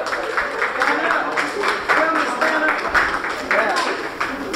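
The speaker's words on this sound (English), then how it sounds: "Now let's give our winners a round of applause." Applause for the winners of a high school puzzle contest, steady overlapping clapping with rhythmic surges across the room, mixed with voices throughout.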